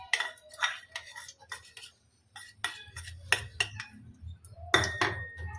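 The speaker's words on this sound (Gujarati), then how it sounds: "બધાની પહેલા આપણે એમાં નાખીશું ઘી।" Metal utensils clink and scrape against a pot in short, scattered taps as ghee goes in while cooking a sweet cracked-wheat dish, near and soft over a low hum.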